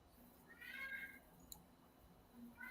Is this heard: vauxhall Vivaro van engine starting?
no